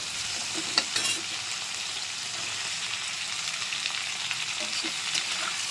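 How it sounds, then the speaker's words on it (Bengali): Onion, tomato and other ingredients fry in a pan of hot oil for a fish curry, giving a steady, fairly quiet sizzle with a few light stirring clicks and no voices. "এটা একটু হালকা ভাজা করে তারপরে মশলা দেবো"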